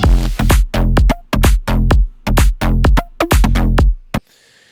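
Punchy Serum synth bass from an electronic track, processed with Ableton plugins: a run of loud, close, rhythmic stabs with short gaps between them, ending abruptly into near silence.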